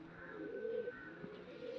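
Pigeons coo softly in low, rolling bursts near a loft, moderately faint over a constant hiss, with no talking heard.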